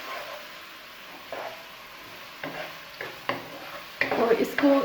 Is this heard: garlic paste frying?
yes